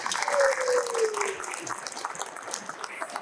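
An audience applauds at a live event, a broad steady patter of many hands clapping that fades somewhat after the first second, with a brief tonal sound near the start.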